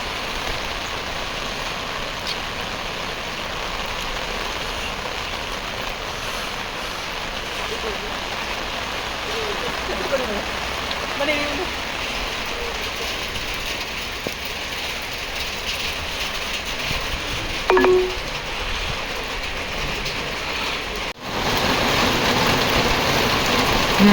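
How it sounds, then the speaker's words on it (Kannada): Steady, dense hiss of heavy rain pouring down without a break, with a few faint knocks and a brief louder rustle near the end. "ತುಂಬ ಚೆನ್ನಾಗಿ ಮಳೆ ಬರ್ತಾಯಿತ್ತು."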